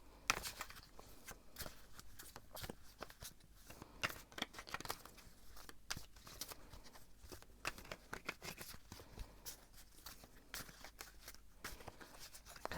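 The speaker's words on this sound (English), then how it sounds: "I'm going to shuffle and see what the cards have to say" Tarot cards shuffled by hand in a close, quiet room, a long stream of crisp papery riffles, flicks and slaps that keeps going without speech.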